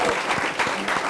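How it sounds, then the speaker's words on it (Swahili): A studio audience applauds on a Kenyan talk show, a dense, steady wash of clapping lasting about a second with no break. "Wapi makofi yake?"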